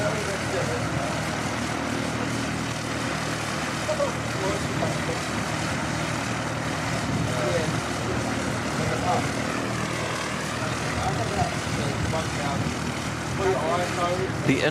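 A Boeing 747-400 freighter departing Christchurch Airport gives off a broad, sustained jet roar at moderate distance, steady and dense throughout, with voices faintly present underneath.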